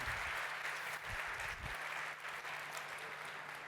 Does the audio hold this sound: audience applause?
yes